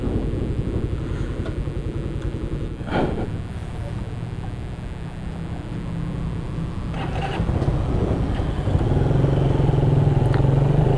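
A motorcycle is ridden at full throttle on a morning ride, a continuous engine drone with a rumbling texture that grows louder toward the end, with brief clatters along the way.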